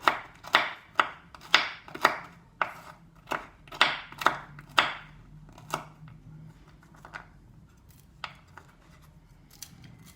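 Walnuts chopped with a knife on a wooden board: a quick, steady run of about a dozen sharp, close knocks that thin out into sparser, softer taps, with no talking.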